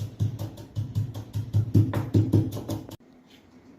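Cooled roasted spices are pounded coarsely in a mortar for a stuffed bottle gourd dish: a steady run of close, dull thuds, several per second, that stops abruptly near the end.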